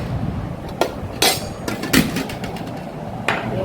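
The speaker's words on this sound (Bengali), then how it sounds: "লেবু কাটলাম," A knife cuts through a lemon in a home kitchen with a few sharp, close chopping knocks on a board amid faint kitchen background noise, while lentils and beef liver cook nearby.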